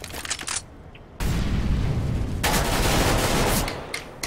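Rapid automatic gunfire in Counter-Strike: Global Offensive, a brief burst, a short pause, then sustained loud bursts of shots rattling on for several seconds with a booming low end.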